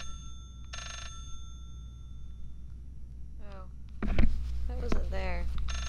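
A single short electronic ring from a phone hidden in a bookshelf in the horror game Layers of Fear, heard early over a low hum. Voices and a louder thump follow later.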